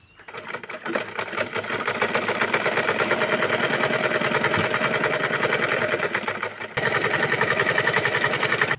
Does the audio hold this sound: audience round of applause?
no